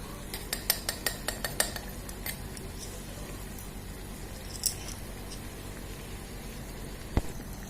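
Onions frying in a miniature pan, with a quick series of small metallic taps from stirring at first, then quieter scraping and occasional clinks, close and alone.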